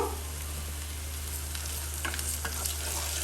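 Potatoes fry in hot oil in a pan, with a dense, even sizzle and a few light stirring scrapes near the end.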